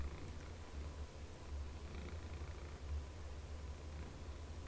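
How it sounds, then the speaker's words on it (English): Ellie, a pet cat lying on a desk, purrs in a steady low rumble that runs without a break, close but quiet, with no voices. "Ellie is just laying on my desk, looking at me and purring loudly"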